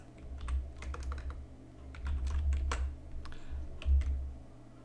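Keys clatter on a computer keyboard in a quick, uneven burst of clicks, close and fairly quiet over a low background hum, with no talking.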